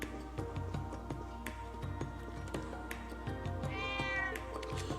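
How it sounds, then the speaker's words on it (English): Cat meowing in Trails of Cold Steel 3, a clear, fairly close meow rising over a soft game background with light rhythmic ticking and chime-like tones throughout. "It's a cat."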